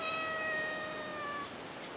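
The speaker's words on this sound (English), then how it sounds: "here's my other cat, Arlene." A house cat gives one long, clear meow, close and fairly loud, that holds steady before trailing off, with no other sound around it.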